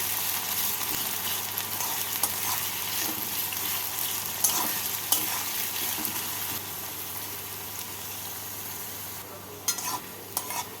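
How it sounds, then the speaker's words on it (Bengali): Chopped onions fry in hot oil with melted sugar for a mutton curry, a soft, steady sizzle with occasional stirring scrapes, fairly quiet and close throughout. "এবার এর মধ্যে কুচনো পেঁয়াজগুলো দিয়ে দেব পেঁয়াজগুলোকে লাল করে ভেজে নেবো"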